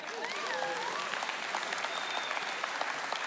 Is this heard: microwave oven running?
no